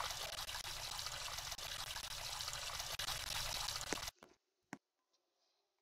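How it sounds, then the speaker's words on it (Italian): Running water pours steadily from a tap as hands are washed in the Roblox game Brookhaven, a continuous close splash that cuts off abruptly, followed by a couple of faint drips and clicks. "Mi lavo le mani."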